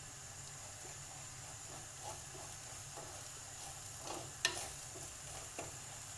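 Garlic and ginger sautéing in a pan as the base for a Kerala-style pepper chicken curry: a soft, continuous sizzle with a few faint stirring clinks and scrapes.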